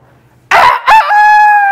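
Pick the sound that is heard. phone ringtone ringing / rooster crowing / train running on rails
rooster crowing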